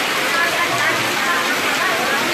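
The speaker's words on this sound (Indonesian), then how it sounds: "Hujan berat." Heavy rain pours steadily over an outdoor queue at a post office, a dense, constant hiss that fills the whole stretch with no pauses.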